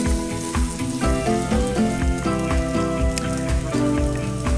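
Ginger and green chilies sautéing in a pan for chana masala, a steady close sizzle under a layer of background music with no voices.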